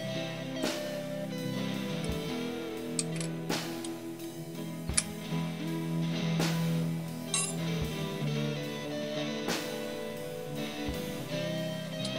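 A socket wrench cracks loose the tuner nuts on a vintage Japanese guitar, making sharp metallic clicks and ticks at irregular intervals, close and fairly quiet, with small clinks of hardware between.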